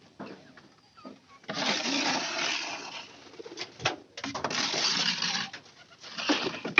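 Domestic pigeons in a loft, including a white one, cooing in repeated low throaty phrases up close, with short pauses between bursts and no talk.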